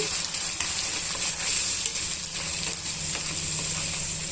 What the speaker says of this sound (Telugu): ఇప్పుడు మనం గ్రైండ్ చేసి పెట్టుకున్న మసాలాని యాడ్ చేసుకోవాలి యాడ్ చేసుకొని ఇవన్నీ బాగా మిక్స్ చేసుకుందామండి